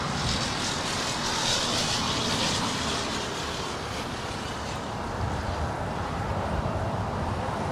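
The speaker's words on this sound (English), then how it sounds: "we're going to end on the Lufthansa A340-600" A Lufthansa Airbus A340-600 at LAX produces a constant broad engine roar with airy hiss, steady and fairly distant, holding at an even level without a clear approach or fade.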